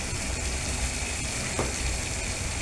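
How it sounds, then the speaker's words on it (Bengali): Spiced masala for a prawn curry sizzles softly in a pan as it is sautéed with hot water added bit by bit, a faint, steady fry hiss with a brief stir scrape midway. "আমি গরম জলটা দিয়ে দিয়ে আস্তে আস্তে কষিয়ে দেবো"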